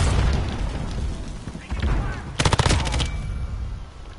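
Gunfire in the Modern Warfare video game from a weapon fitted with grip, stock, optic and suppressor, with a dense burst of rapid shots mid-clip among loud game noise and booms.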